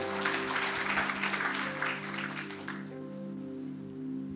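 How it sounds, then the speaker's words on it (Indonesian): A congregation claps during a church worship service, with a short burst of fairly quiet applause over steady sustained keyboard tones that fades after a few seconds, leaving the music alone. "Tepuk tangan buat Tuhan Yesus"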